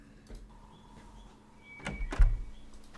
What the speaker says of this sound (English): So these bunker, or whatever these doors are called, they sound just as a normal door would sound, like a house door.